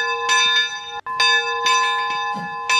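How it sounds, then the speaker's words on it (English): Train bell inside the cab of a train in the Roblox railroad game, ringing in a steady series of bright, sustained metallic strikes with one brief gap, loud and close with no talk. "So on the inside you have your bell"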